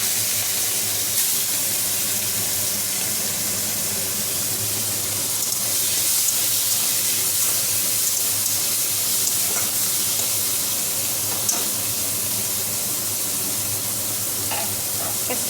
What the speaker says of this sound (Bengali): এদিকে তেলটা গরম হয়ে গেছে, মাছ কটা দিয়ে নিই